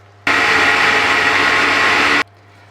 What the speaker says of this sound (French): je vais mixer tout ça et on essaye d'obtenir quelque chose de très crémeux.